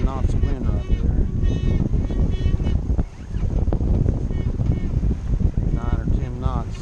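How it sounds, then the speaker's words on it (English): Wind of about ten knots buffets a sailboat under way, a loud gusty microphone rumble with water and hull noise, while people talk over it throughout. "That's about 10 knots of wind right there."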